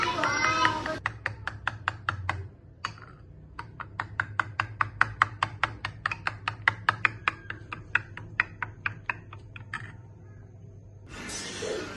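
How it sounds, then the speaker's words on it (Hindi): Repeated rapid taps of a utensil against a bowl as five eggs are whisked with a spoonful of salt and black pepper, a steady clicking rhythm that pauses briefly and resumes, close and moderately loud. "5 अंडे लिए, उसमें अब 1 चम्मच नमक डाला, काली मिर्च, इसको अब मिक्स कर रहे हैं।"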